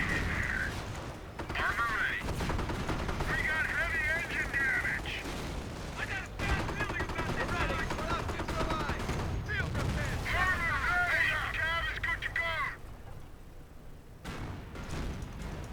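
Gunfire and explosions in a Company of Heroes battle around a base under attack, with Panzer IV tanks nearby: dense, continuous bursts of shooting and booms alongside in-game radio voices and a talking player.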